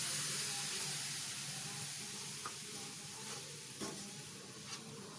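Coconut, sugar and milk cook in a pan for coconut ladoo, giving a soft continuous sizzle and hiss with occasional stirring scrapes, steady and close throughout.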